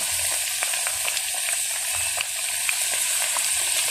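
Banana flower vadas frying in hot oil, a dense, steady crackling sizzle close up with small popping bursts throughout and no speech.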